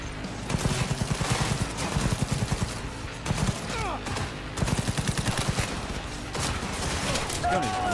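Rapid automatic bursts from a gun in Cyberpunk 2077, several strings of close, loud shots separated by short pauses, with a voice speaking between them.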